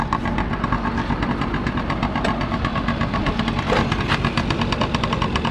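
A motorcycle engine starts up and settles into a loud, rough idle, its fast, chattering pulses running steadily up close.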